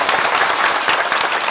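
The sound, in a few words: applause for the villagers at a kirtan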